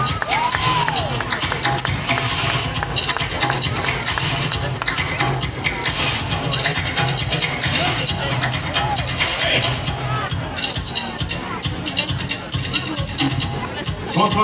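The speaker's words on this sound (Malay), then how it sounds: "Kita berikan tepukan yang gemuruh untuk Celiana Tensu." A large audience at an ethnic costume contest applauds and cheers for a contestant, a steady wash of clapping and crowd noise that carries on throughout with voices mixed into the din.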